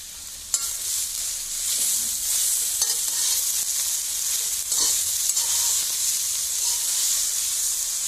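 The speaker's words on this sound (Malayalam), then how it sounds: "ഇലകൾ വാടാൻ തുടങ്ങുമ്പോൾ അതിലേക്ക് മഞ്ഞൾപ്പൊടിയും ഉപ്പും ഇട്ട് നല്ലവണ്ണം ഇളക്കുക." Wilting pathila (colocasia) leaves being stirred in a pan with turmeric and salt for thoran: a continuous soft hiss and sizzle with occasional scraping stirs, close and steady, no voices.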